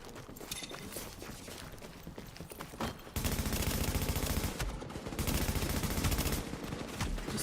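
Shotgun fire from an enemy wave in Tom Clancy's The Division game cracks out in rapid, dense bursts that grow louder after the first few seconds, with sustained overlapping blasts.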